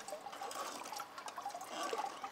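Water trickles and drains through a mesh sieve while fine material is scraped off the mesh, a soft, steady dribbling that continues throughout at low volume.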